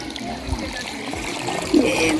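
Cold, clear spring water trickles at a drinking-water spot by a jungle temple, a soft continuous dribble up close with a slightly louder splash near the end and no talk.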